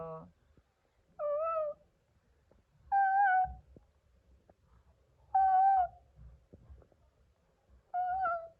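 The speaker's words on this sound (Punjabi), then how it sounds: "ਝਾੜੇ ਨੂੰ ਦੇਖੋ ਮੋਰ ਬੈਠਾ" A peacock perched in a bush gives five loud, drawn-out wailing calls about two seconds apart, close by, with quiet gaps and faint rustling between them.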